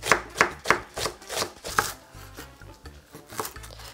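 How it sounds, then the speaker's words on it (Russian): Cabbage being finely shredded with a knife on a board, a quick run of crisp, evenly spaced chops that slows and softens toward the end, close and without speech. "Нашинкую мелко капусту."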